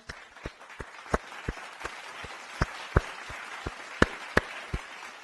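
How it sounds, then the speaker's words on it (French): Sparse, scattered hand claps sound at moderate distance over a soft background wash, a thin round of applause with sharp individual claps standing out irregularly. "j'applaudis la prestation"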